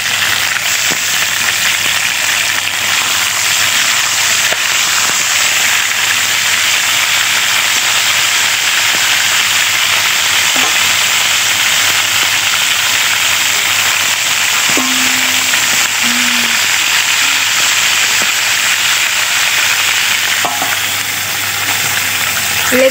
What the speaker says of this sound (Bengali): লেগ পিস ভাজা হয়ে গেছে।